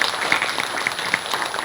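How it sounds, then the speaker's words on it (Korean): Encouraging audience applause at a regional health-promotion seminar, a brief burst of many hands clapping in a hall, steady and moderately loud with individual claps popping out. "격려의 박수 한번 부탁드립니다"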